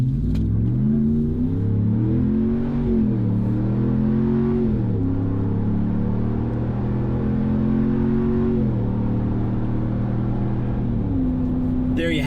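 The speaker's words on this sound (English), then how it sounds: "I'm gonna whip around here, let you hear it at wide open throttle." A Ram 1500 pickup engine roaring through its exhaust at wide open throttle, revving up through rising pitches and shifting gears, loud and close from start to finish.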